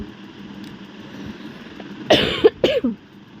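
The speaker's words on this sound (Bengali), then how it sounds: "বারবার কাশি চলে আসছে" Someone who is ill coughs several times in quick succession, close and loud against a quiet indoor hum.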